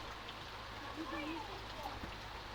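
Steady rain patters down in a soft, continuous hiss, with faint voices murmuring in the background.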